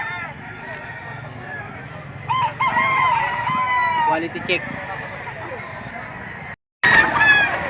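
Roosters crowing at the Lipa auction market, several close, loud crows over steady crowd noise, with people talking throughout and a brief dropout near the end.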